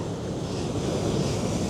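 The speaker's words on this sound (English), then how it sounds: "getting those waves coming in." Ocean waves roll in on a New Zealand shore near a shipwreck, a loud steady wash of surf mixed with wind buffeting the microphone, continuous and with no talking.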